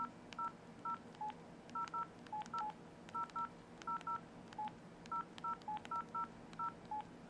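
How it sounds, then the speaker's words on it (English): Keys on a Pantech C740 Matrix QWERTY phone keyboard sound as a rapid series of short electronic beeps in two pitches, irregularly spaced over about seven seconds, quiet and with no talking. "Here's a quick look at the keyboard in action."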